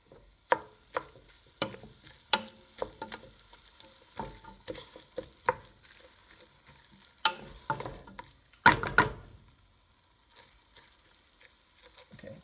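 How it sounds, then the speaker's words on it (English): Ground turkey fries in a pan while a spoon stirs and scrapes through it, giving repeated sharp scraping knocks over a soft, steady sizzle, close and alone. "It's already cooking. Okay, keep stirring so that doesn't burn."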